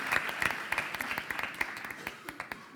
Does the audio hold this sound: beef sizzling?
no